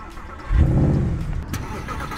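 Mercedes SLS AMG started by push button: a short starter crank bursts into a loud, deep engine catch that settles into a rumbling idle, close by.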